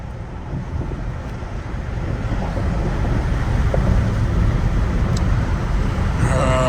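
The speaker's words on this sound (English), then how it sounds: "More traffic." Steady road traffic rolls past outdoors near an EV charging station, a continuous broadband roar that grows slightly louder midway, with wind buffeting the microphone and no voices.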